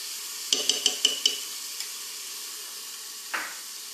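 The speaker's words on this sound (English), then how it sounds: "We cook the ginger garlic paste along with the onion till the raw smell of the ginger garlic goes away from it" Ginger garlic paste frying with onions in a pan: a quick run of five or six sharp scraping stirs over a steady close sizzle, then one more scrape after a pause.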